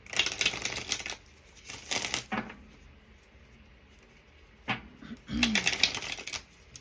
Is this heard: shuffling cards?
yes